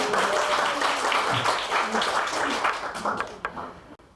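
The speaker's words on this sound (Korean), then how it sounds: "박수 좀 부탁드리겠습니다" Audience members clap at a public results-sharing event, moderate applause that fades unevenly into a few scattered claps, with faint voices underneath.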